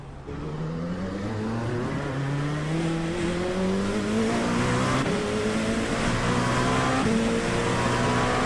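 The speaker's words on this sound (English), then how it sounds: "Getting the old locking the tyres up." An LMP2 prototype race car in a sim racing game drones loudly at high revs, the engine pitch rising and falling as the driver brakes hard enough to lock the tyres.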